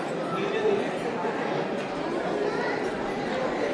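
Dense crowd chatter at a Hindu temple on 24 December, with many overlapping voices and a steady murmur that stays fairly loud and even throughout.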